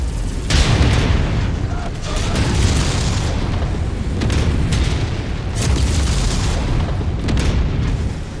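Missile explosions in a video game: loud, dense booming blasts rolling one after another across the whole stretch, with rumbling low end and no clear gaps.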